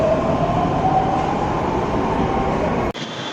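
A Mumbai Metro Line 2A/7 train at the Andheri West terminal stop, heard from onboard as a steady, loud rumble of rolling wheels and motors with a faint whine, ending in a brief sharp click near the end.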